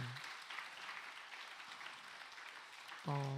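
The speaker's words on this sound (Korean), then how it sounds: "우리 박수 한번 해주세요." Soft, distant applause from a congregation during a Sunday morning church service, an even patter of clapping that carries on until a voice begins speaking at the very end.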